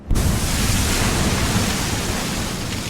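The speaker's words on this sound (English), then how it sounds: "crash against the shore, they create low-frequency sounds, unique to that stretch of coastline" Broadband ocean surf crashing against an island shoreline, a steady loud wash of noise with no distinct breaks and no voices.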